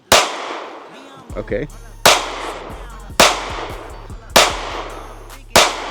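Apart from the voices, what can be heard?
CSX pistol shots fired in accuracy test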